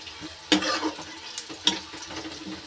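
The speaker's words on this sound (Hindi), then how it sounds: "इसके साथ में भी इसको भी थोड़ा भून लेना है, तो मैं सिर्फ इतना ही कर रही हूँ, इसे भूनूंगी" Cashews and other ingredients roasting in a pan, a soft sizzle with sharp scraping stirs at a couple of moments and quieter rustling between them.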